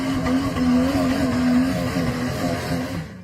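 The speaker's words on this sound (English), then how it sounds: "The blue SUV performed a spectacular acceleration, and this was the result." An engine roars hard and steadily as a blue SUV accelerates off-road across muddy ground, loud and close throughout with a rough, straining tone.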